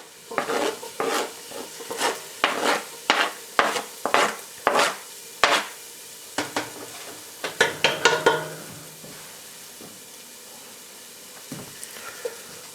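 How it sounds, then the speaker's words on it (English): Green peppers and onions sautéing in a pan for soul food black-eyed peas give about a dozen evenly spaced, close stirring scrapes over a soft sizzle, then a quieter stretch with a few stray clatters. "And we're going to saute these."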